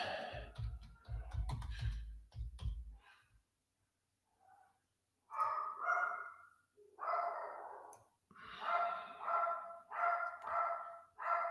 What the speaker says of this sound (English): There goes the dog again.